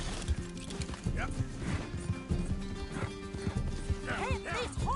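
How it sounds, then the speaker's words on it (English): A horse gallops across open ground in Red Dead Redemption 2, hooves clip-clopping in a quick rhythm with a whinny, under game noise and people talking over it. "Can't this horse go any faster?"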